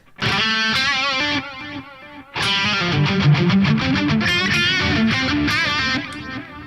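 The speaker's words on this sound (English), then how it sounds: "It's another very nice delay with some cross feedback." Overdriven guitar playing busy phrases, each note smeared by bouncing echoes that spread and overlap, loud and continuous apart from a brief pause.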